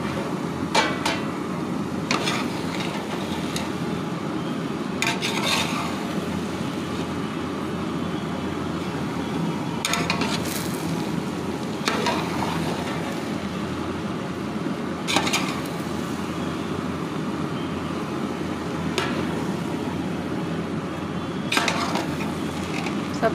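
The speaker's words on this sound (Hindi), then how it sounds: "हल्के हल्के हाथ से मिक्स करेंगे।" Zarda sweet rice being mixed gently by hand in a pot, with soft stirring and scraping, and occasional sharper clinks of utensil against the pot over a steady background hum.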